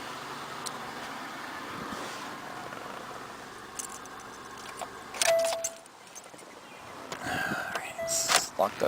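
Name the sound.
car keys jangling while locking the car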